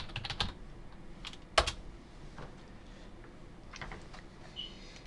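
Quick bursts of keystrokes on a computer keyboard during a Windows XP repair, with clustered clicks separated by short pauses, fairly close and moderately quiet, with no talking.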